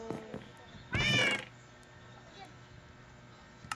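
A pet cat gives one clear, loud meow lasting about half a second, alone against a quiet room hum, with a brief bit of voice beforehand.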